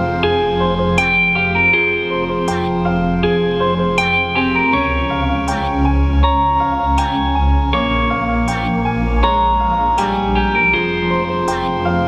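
A home-produced music beat plays back continuously, layered synth chords and melodic notes over a low bass line with regular sharp percussive hits, loud and full throughout with no talking.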